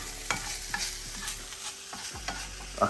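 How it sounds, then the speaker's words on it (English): Italian sausage browning in a pan while being stirred and flipped, with a steady sizzle broken by repeated scraping and turning sounds at close range, no voices. "Creating a nice brown glaze over the Italian sausage. You want to make sure that you're flipping."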